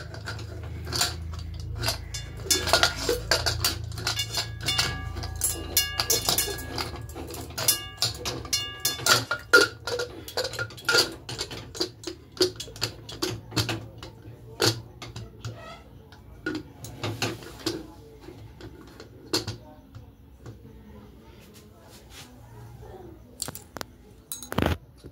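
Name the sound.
pressure cooker lid being fastened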